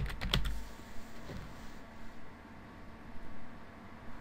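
Keys clack on a computer keyboard, a quick close burst of typing at the start followed by sparse, softer keystrokes against a quiet room hiss.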